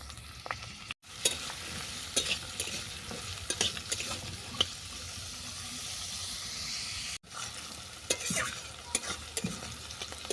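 Carrots, vegetables and capsicum stir-fry in a pan, a steady close sizzle with scraping stirs throughout and two brief dropouts in the sound.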